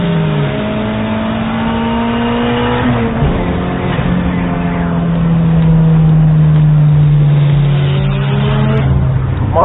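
A turbocharged Turbo Conquest car engine revs loud and close, its tone sliding up and down in long sweeps with a sharp shift partway through, sustained throughout.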